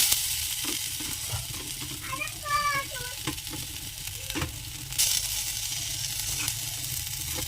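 Ginger, cumin powder and green chilli frying in a pan, a steady low sizzle with occasional stirring clinks and scrapes, close by, with a brief faint vocal sound partway through.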